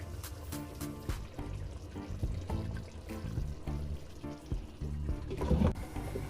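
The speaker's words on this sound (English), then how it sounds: "So we've got the water there boiling," Bubbling, sputtering water boils steadily in a pan close by, with occasional louder pops and a busy low rumble throughout.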